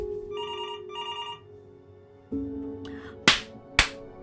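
Telephone ringing in the video game Before Your Eyes: two clear electronic ring bursts near the start over a low ambient hum, followed later by a shift in background tone and two sharp loud impacts.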